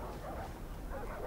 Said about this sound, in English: There's dogs. There's dogs.